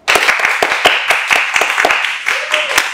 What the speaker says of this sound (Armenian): Ծափարություններ Լևոնին Սարգսյան